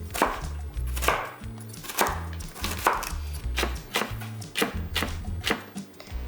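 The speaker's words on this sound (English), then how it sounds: "I'm just gonna chop them up into little cubes" A knife chops carrot matchsticks into small cubes on a cutting board, with steady close rhythmic thuds, about one or two per second, heard alone without talk.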